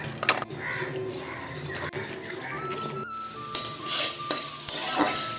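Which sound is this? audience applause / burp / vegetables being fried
vegetables being fried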